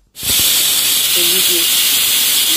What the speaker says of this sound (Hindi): हमारी 1 सीटी आ चुकी है और हमारा पुलाव रेडी हो गया है।